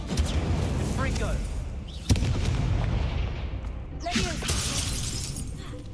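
Confringo fire spell in the video game Hogwarts Legacy, bursting with a sharp crackling blast and shattering impacts amid rumbling combat noise, followed by another crackling burst.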